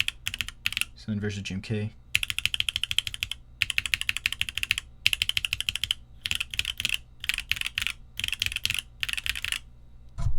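Mechanical keyboard with SW Coco Black switches on a polypropylene plate and PBT keycaps, typed in quick clacky bursts separated by short pauses, close and crisp, with a brief spoken phrase near the start.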